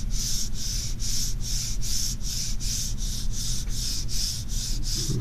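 A smooth, unpolished wooden dowel about one inch thick and twelve inches long is rubbed in a steady, even rhythm of soft, close-up swishing strokes, about two per second, with no voices.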